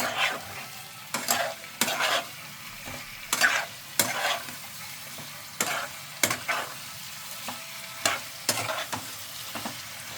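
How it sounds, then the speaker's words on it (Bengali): Pre-boiled meat fries in hot oil in a pan for Kolkata-style biryani, with a steady low sizzle broken by regular, distinct scraping strokes of a spoon stirring it. "মাংসটা আগে থেকে সিদ্ধ করে তুলে রেখেছিলাম, আমি দিয়ে দিলাম। ভালো করে নেড়ে নেব।"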